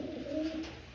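A Lakha pigeon gives a soft, close, rolling coo lasting under a second, with a low throaty warble rising and falling.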